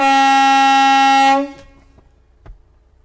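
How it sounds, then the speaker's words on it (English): A loud, sustained air horn blast from a Peterbilt 536 truck lasting over a second, then cutting off, followed by quiet with a faint thump. "You've got the old school air horn."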